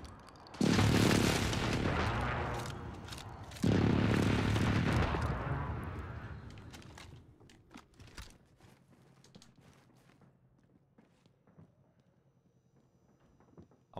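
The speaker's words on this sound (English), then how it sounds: "Be advised, friendly position airstrike." Airstrike explosions in a Call of Duty shooter game: two loud, heavy booming blasts a few seconds apart, each rolling out into a long rumble, followed by quieter scattered impacts and debris fading into the background.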